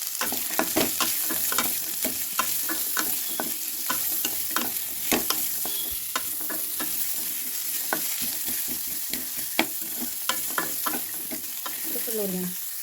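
Grated coconut frying in hot oil in a pan for a fish fry, a steady crackling sizzle broken by frequent clicks and scrapes of stirring, close and loud throughout, with no voices.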